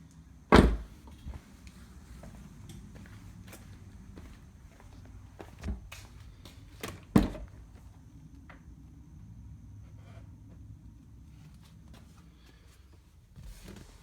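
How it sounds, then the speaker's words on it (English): A 2016/2017 Camaro SS car door shuts with a solid thump, followed by a few lighter knocks and clicks against a quiet, low background hum. "And I'll close this door."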